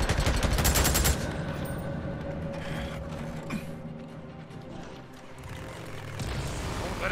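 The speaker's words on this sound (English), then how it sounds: "Shoot the bike, Dick!" A rapid burst of automatic gunfire in the video game Days Gone opens loudly, then gives way to mechanical rumbling and scattered clanks, with a faint spoken voice.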